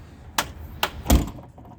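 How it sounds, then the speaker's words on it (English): A Mack truck's passenger door, recently fitted with a new handle, gives three sharp clunks in quick succession, the last the loudest and most solid, close up and with no speech. "Passenger door opens again."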